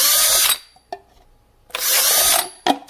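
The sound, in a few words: power drill making holes in plastic containers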